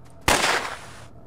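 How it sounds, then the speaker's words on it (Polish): A sniper rifle shot in the shooter game Stalker Lost Alpha: a single sharp, loud crack followed by a broad burst of noise that decays slowly for almost a second, with no talk. "Strzał snajperski."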